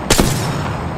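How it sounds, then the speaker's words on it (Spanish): A single sharp gunshot cracks in Apex Legends, loud and close, then decays into a brief echoing tail. "Los enemigos me están disparando."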